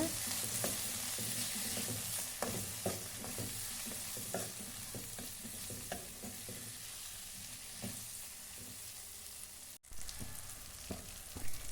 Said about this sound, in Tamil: மஞ்சள் தூள் சேர்த்து வதக்கிக்குங்க